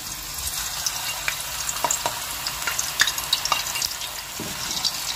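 Potato frying in hot cooking oil, a continuous bright sizzle and crackle with scattered pops and occasional stirring, close and steady with no talk.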